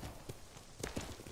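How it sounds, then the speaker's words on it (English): Horse hooves clip-clop in Ghost of Tsushima, a few quick, fairly faint thuds in an uneven gallop rhythm over a steady game background. "He gets off his horse while it's still moving"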